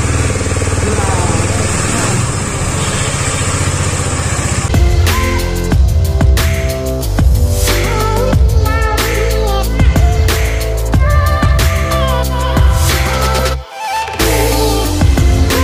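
A heavy motorcycle weighing about 167 kg rumbles along under a steady engine drone with shifting revs and a brief dip near the end, while a rider talks over it.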